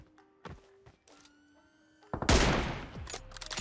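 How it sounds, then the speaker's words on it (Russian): Gunfire in the PUBG Mobile battle royale game, a sudden burst of loud shots and heavy impacts breaking in after quieter in-game sounds, dense and sustained toward the end. "Сзади стрельба."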